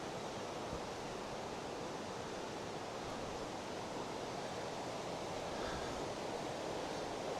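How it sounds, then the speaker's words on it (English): Rough river water rushes steadily past smooth pools on a countryside walk between Rushford Bridge and Chagford Bridge, a loud, unbroken broadband roar with no voices. "And there's the rough water with the smooth water."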